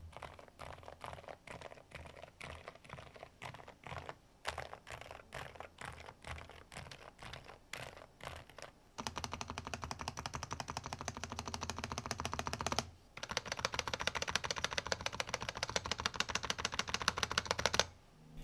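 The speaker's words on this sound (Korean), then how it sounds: "이번에는 먼저 출시된 8K가 아닌 일반 무선 모델과 비교 타건을 해보았는데" Rapid mechanical keyboard typing on Dareu EK87 Pro keyboards, steady clicky keystrokes in continuous bursts with brief pauses, growing louder and denser in the second half.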